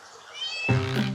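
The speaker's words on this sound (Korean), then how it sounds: "어이구 뭐야, 냥이들." Small kittens meow near a pool at a Bohol cave resort, a short high thin cry followed by a louder, fuller meow close by.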